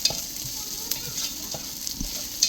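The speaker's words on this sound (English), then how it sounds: "While our onion is cooking," Onion frying in a pot for a creamy coconut pumpkin soup, a soft steady sizzle broken by a few scraping spoon stirs, close and alone with no talk.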